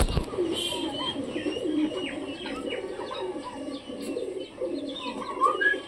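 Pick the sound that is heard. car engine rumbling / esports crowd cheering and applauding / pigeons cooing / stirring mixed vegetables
pigeons cooing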